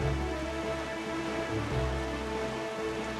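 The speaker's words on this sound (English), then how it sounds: "And it started raining." Steady rain pours in The Legend of Zelda: The Wind Waker near Windfall Island, a dense, even hiss of falling drops with a low underlying rumble and no voices.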